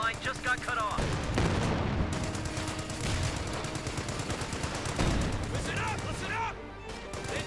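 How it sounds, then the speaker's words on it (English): Battlefield gunfire from Company of Heroes 2, a 1v1 match pitting OKW against US forces, with bursts of machine-gun and rifle fire and heavy crashes under a steady rumble while a voice talks through it. "Nice shooting, Friedrich."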